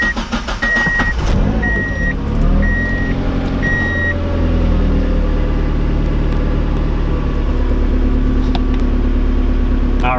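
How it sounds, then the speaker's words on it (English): A Mazdaspeed Miata engine cranks and catches, then settles into a steady idle hum, loud and close, with a few short electronic beeps near the start. "now let's fire the car up and see if it reads AFR correctly"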